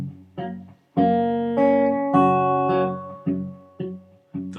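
A fingerstyle guitar plays the opening of the pattern, with plucked upper-string notes over thumped bass notes, struck in a steady rhythm and ringing clearly, close and alone.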